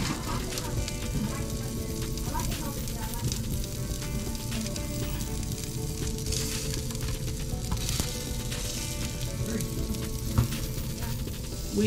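Wheat pancakes fry in butter on a hot pan with a steady, dense sizzle and crackle that holds close and loud, while people talk over it.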